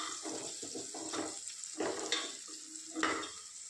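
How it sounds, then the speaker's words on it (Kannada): Onion and tomato frying in a pan for a simple potato bhaji, a steady sizzle broken by several scraping stirs and short clatters, close and moderately loud, with no talking. "ಈರುಳ್ಳಿ ಟೊಮೊಟೊ ಊರ ಪಾಡೋಡು ಹಾಕಿ ಮಲ್ತಿದ್ದು ಫ್ರೈ ಮಾಡ್ತೀವಿ"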